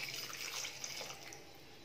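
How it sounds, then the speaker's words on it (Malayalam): Water poured into a pan of Kerala-style crab curry, a short, faint splashing trickle of liquid with no voices. "ആ അരപ്പ് അരച്ച മിക്സിയിൽ 1 കപ്പ് വെള്ളം ഒഴിച്ച് അത് കലക്കി ഒഴിക്കുവാണേ."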